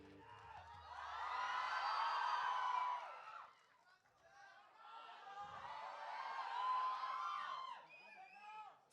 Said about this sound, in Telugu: గట్టిగా చప్పట్లతో వేదిక మీదకి ఆహ్వానం